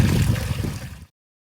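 Water gushing steadily from the outlet of a 10,000 litre pond pump during a pond and waterfall clean-out, a dense rushing flow close by that stops abruptly after about a second.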